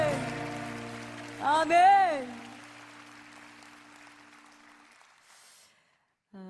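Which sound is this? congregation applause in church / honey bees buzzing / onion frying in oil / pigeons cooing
congregation applause in church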